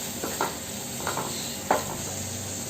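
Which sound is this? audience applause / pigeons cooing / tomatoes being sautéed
tomatoes being sautéed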